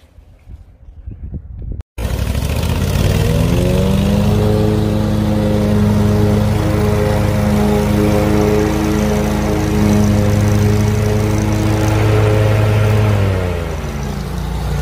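A lawn mower runs over turf beside a pop-up drainage emitter. After a quiet opening, its loud, steady engine drone starts up and holds close and even throughout.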